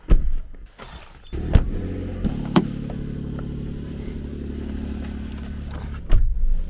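A car driving on a winter road in Kelowna, a steady low engine and road hum from inside the cabin, with a few knocks and thumps at the start and near the end.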